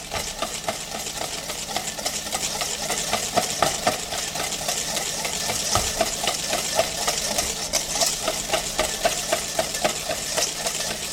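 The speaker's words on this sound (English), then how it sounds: "So you mix the egg yolk very nicely with the sugar, as good and as fast as you can" Egg yolk and sugar for a mocha mousse are beaten fast and steadily, making a rapid, even whirring churn that runs for the whole stretch with no talking.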